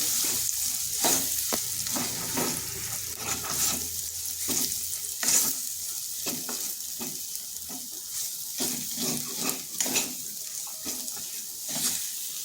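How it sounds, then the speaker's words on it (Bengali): Ground lentil paste is stirred and fried in a wok for a vegetarian radish-greens dish, a constant sizzle broken by repeated scraping strokes of a spatula against the pan. "ডালটা এইভাবে বেশ নাড়াচাড়া করে নিতে হবে"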